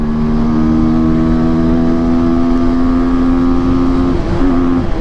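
A 2025 TVS Apache 200 4V motorcycle engine drones loud and close at a steady high pitch as it pulls hard, with a brief dip near the end like a gear change.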